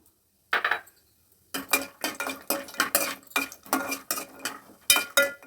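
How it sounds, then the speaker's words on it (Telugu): A spoon stirs and clinks against a pan as cashews and raisins fry in ghee, in a close, rhythmic run of short metallic scrapes and taps after a brief opening knock and a pause. "గీ వేసుకొని కాజు కిస్మిస్ వేయించుకుంటాను"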